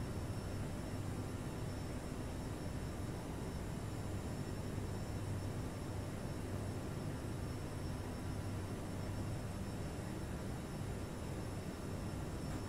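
Steady, loud airliner engine roar with broad rumble as a plane takes off in Microsoft Flight Simulator 2020, flying from Stockholm in stormy conditions; constant and continuous throughout, no voices.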